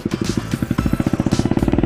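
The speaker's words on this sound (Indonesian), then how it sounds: "ini ada motor berisik, duluan aja dulu" A noisy motorcycle passes close by, its engine giving a loud, rapid rhythmic pulsing throughout, heard from a riding vlogger's position on a narrow street in Bandung.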